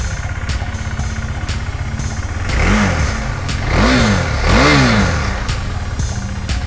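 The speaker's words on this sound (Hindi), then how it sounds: "स्टार्ट करके इसके आपको साउंड में सुना देता हूँ।" A KTM Duke 390 motorcycle engine idles close by after a home service, then is revved three times in rising, growing bursts before settling back to a steady idle.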